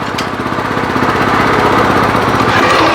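A Weima WM1100C-6 walk-behind diesel tractor being put into first gear runs loud and close, with a rapid, steady thumping chug throughout and no speech.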